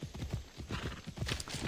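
Horse hooves galloping in Assassin's Creed Odyssey, a fast, steady clip-clop rhythm, close and clear, with a faint whinny-like tone and no talking over it.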